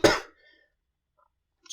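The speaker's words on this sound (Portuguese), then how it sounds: "desculpem a tosse, eu não sei se eu vou conseguir tirar na edição, mas é a gripe" One sharp, close cough from a person with the flu, followed by near silence and the start of another cough at the end.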